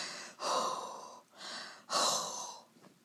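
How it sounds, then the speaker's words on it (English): Deep, slow breaths, with a strong inhale, a softer exhale and another full inhale, demonstrating Kussmaul respirations. The breathing is close and clear with no speech. "these Kussmaul respirations is deep inhales and exhales"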